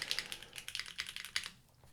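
Rapid, irregular keystrokes on a Geon F1-8X v2 keyboard with a classic build, a crisp, clacky string of about a dozen close-miked presses that thins out and quietens toward the end, with no talking.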